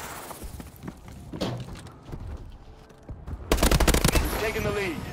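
Pistol fire and other gunshots from a Call of Duty: Advanced Warfare multiplayer match, with a dense burst of rapid shots late on over game noise and a speaking voice.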